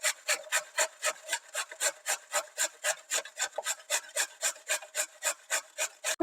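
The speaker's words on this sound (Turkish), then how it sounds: "Şimdi bir adet yıkadığım, kabuklarını soyduğum havucumu da rendeliyorum." A washed, peeled carrot is rubbed against a kitchen grater in about twenty quick, steady rasping strokes, close up and alone without speech.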